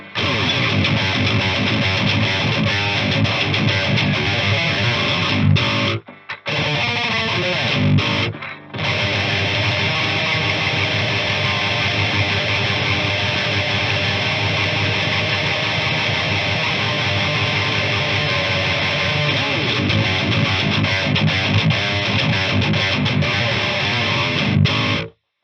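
A heavily distorted electric guitar runs through a Mud Killer pedal into a Dark Terror amp, a loud dense saturated wall of chugging riffs with two brief silent breaks early on, playing alone without talking.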